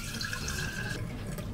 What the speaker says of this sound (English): I'm going to pour mine into this jar I have